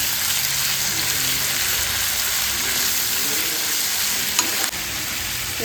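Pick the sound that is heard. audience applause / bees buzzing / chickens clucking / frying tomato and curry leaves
frying tomato and curry leaves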